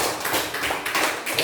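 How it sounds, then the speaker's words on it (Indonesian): A teacher claps hands for a group of students in a classroom, a short quick burst of several sharp, close claps with no talk. "saya tepuk tangan untuk kelompok bintang ya"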